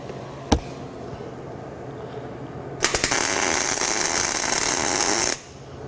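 A welder lays a tack weld on a steel mounting plate for a car's rear end, one sharp pop early on, then a loud crackling buzz of a few seconds that cuts off abruptly, close and alone.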